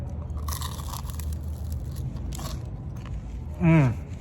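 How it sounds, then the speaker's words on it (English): Faint crunching bites into crisp New York-style pizza crust, followed near the end by a brief louder squeaky sound, under quiet background noise. "Now that crunch was super audible to me"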